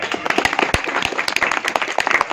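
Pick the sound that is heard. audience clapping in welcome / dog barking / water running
audience clapping in welcome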